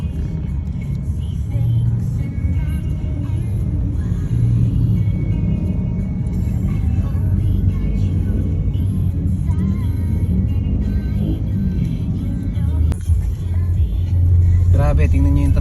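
Heavy road traffic on the route from San Pedro to Muntinlupa, heard as a steady, loud low rumble of car and bus engines rolling past throughout, with voices speaking over it.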